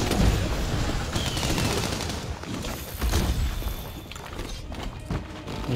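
Wyvern ammo fires in Monster Hunter World as a series of heavy booming blasts set in dense battle noise, with strong bursts near the start and around the middle.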